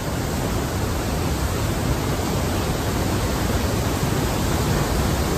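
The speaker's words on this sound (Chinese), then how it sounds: "哇，我背后的就是莱茵瀑布。" The Rhine Falls waterfall in Switzerland roars as a dense, constant rush of heavy water, loud and unbroken from start to finish with no voices.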